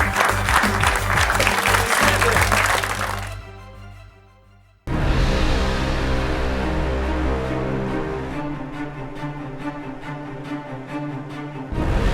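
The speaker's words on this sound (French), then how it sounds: "On peut les applaudir." Crowd applause for youth rugby players at a Swiss under-16 selection event, loud and sustained, broken by a brief quieter pause midway before the clapping swells back up and carries on steadily.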